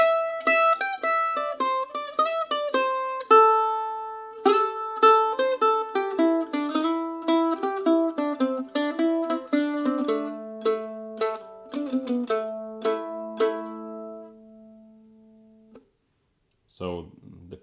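The long ending phrase of a bluegrass tune, played solo: a run of clear plucked string notes, quick at first and then slower with ringing sustained notes, fading out near the end.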